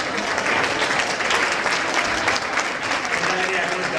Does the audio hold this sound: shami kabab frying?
no